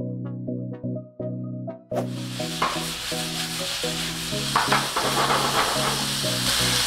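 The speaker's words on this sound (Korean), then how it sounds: "자, 불고기를 익혀주겠습니다." Marinated bulgogi beef sizzles loudly in a hot pan once it hits the heat, a dense steady hiss and crackle with occasional stirring, after a brief stretch of music.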